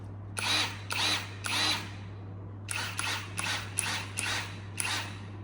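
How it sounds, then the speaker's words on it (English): Keelat 550Nm brushless impact wrench running in short, loud bursts: three evenly spaced bursts, a pause, then six quicker bursts, with a steady low hum underneath. "I always like to play with impact guns."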